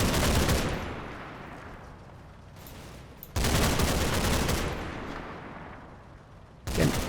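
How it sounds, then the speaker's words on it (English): Sporadic gunfire from a WWII Normandy combat video game: three rumbling volleys, each starting abruptly and trailing off in a long rolling decay, heavy and dense with no voices. "Again, hearing that kind of distant sporadic gunfire."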